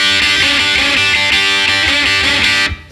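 Distorted electric guitar playing repeated unison double-stop bends in a steady punk rock rhythm, loud and close, ending abruptly.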